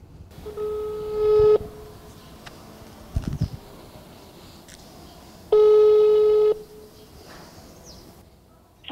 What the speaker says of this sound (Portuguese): Toca duas vezes e rejeita, como a gente pode ver.